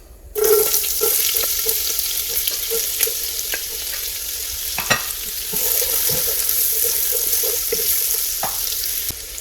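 Onions sizzle in a hot pan while jollof rice is being made. A loud, steady hiss runs throughout, with soft scraping and clicking as they are stirred.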